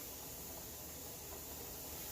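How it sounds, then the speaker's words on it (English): Steam hisses steadily from a pressure cooker's safety valve while making chicken stock, a soft continuous hiss holding even and faint throughout. "You can hear this just slowly building up and hissing."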